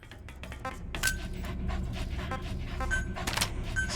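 D-Dog, the canine companion in the video game Metal Gear Solid V: The Phantom Pain, panting steadily in quick rhythmic breaths over game ambience, with occasional faint electronic beeps.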